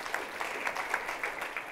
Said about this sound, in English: Just round of applause for all the presentations so far.